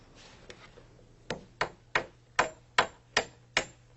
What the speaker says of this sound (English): Then positions and nails the middle stringer.